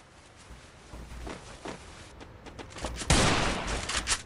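Gunfire in the Free Fire battle royale mobile game: scattered sharp shots at first, then a loud close burst of rapid fire that continues with several more cracks toward the end.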